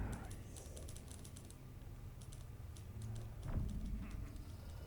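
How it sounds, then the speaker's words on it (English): Keys clatter in quick, irregular bursts as someone types on a keyboard in Dishonored 2, faint and somewhat distant beneath low ambient game noise. "I hear somebody typing."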